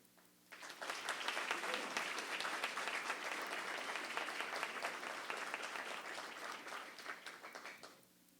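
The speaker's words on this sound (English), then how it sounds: "please join me again in a round of applause" Sustained crowd applause at a community Citizens of the Year award ceremony in Carol Stream, dense clapping swelling quickly and holding steady for several seconds before tapering off at the end.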